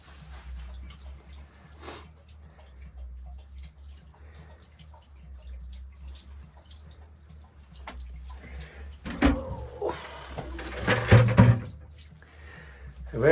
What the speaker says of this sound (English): I think you can hear it gurgling.